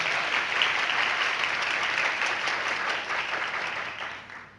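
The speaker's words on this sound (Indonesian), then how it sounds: "Saya pikir itu membutuhkan tepuk tangan yang lebih bagus." Church congregation applauding during a sermon, a steady wash of many hands clapping that holds evenly then tapers off toward the end.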